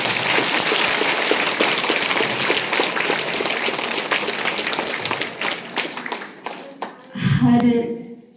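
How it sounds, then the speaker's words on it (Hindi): An audience claps loudly at the opening session of a three-day yoga and meditation retreat: dense, sustained applause that fills the room for about seven seconds, then fades as a voice begins. "अपने लिए आप जोरदार ताली बजाइए।"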